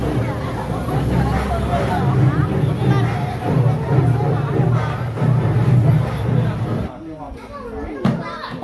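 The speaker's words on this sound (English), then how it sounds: "it's like the crowds just appear out of nowhere" Crowd hubbub in the evening tourist area of Qingyan ancient town, a dense murmur of many voices with nearby chatter and a close voice talking over it, thinning toward the end.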